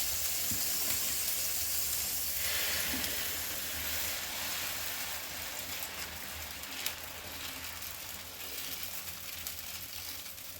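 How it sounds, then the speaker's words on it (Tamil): Sorghum dosa batter spread on a hot stone griddle sizzles with a loud, continuous hiss that eases slightly after a few seconds, with no voices. "இப்போ நம்ம தோசை வைப்போம்."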